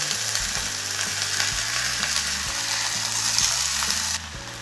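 Spice paste made from ground cumin fries in a pan for a soya-chunk muithya dish, a loud, steady close sizzle with rhythmic scraping strokes of a spatula throughout, easing slightly near the end.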